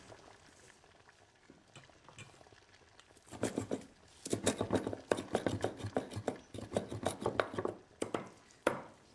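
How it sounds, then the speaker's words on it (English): A knife chops fresh coriander on a board, starting quietly and then settling into rapid, rhythmic near chops for several seconds, with a faint sizzle from the stove underneath. "I'm going to chop some coriander for later now"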